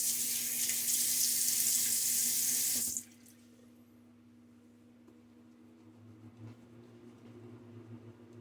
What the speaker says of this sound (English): Get my face wet.